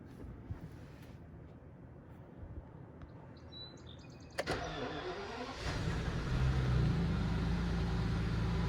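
A 2006 Rolls Royce Phantom VII SWB cold starts on a hot day: quiet ambience with faint bird chirps, a click, then the engine catches and settles into a smooth, soft, barely audible idle hum.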